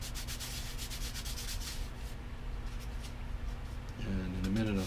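Hand tool rubbing and scraping along a wooden propeller's trailing edge as it is shaped into a knife edge, steady close abrasive strokes filling the clip, with a low hum and a brief tonal sound near the end.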